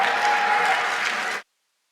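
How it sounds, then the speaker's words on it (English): Audience applause at the Development Bank of Namibia 20th anniversary event, a steady dense clapping from a crowd lasting about a second and a half, then stopping abruptly into silence. "Can you give me a round of applause, please?"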